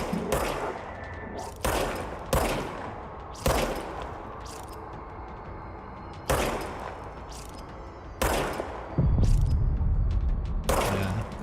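Gunfire in the video game Control comes as a string of sharp, loud shot bursts with brief pauses between them, and a heavier booming blast near the end.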